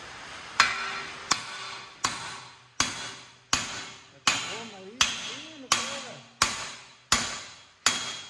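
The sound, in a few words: hammers knocking out wheel hub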